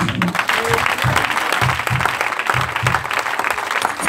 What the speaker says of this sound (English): Clap on.